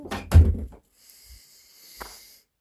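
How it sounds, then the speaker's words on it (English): A door bangs shut with one loud, close thud, followed by a faint lighter knock and a soft click about two seconds later in a quiet room. "Shut the door."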